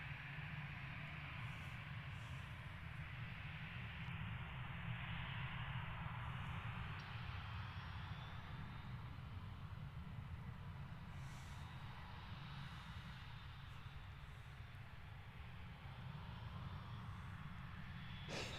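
A jet airliner turning onto the runway threshold at London Gatwick Airport, a steady, fairly distant engine roar that holds evenly throughout with no speech.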